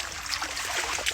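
Village stream running, a soft continuous trickling rush of water heard up close and alone.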